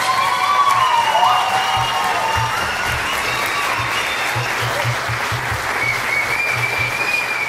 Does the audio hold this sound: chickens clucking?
no